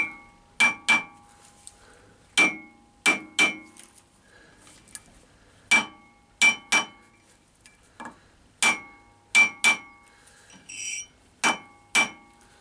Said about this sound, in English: I'm using a little rawhide mallet, and I'm there's nothing to the rhythm of it, I'm just tappy tap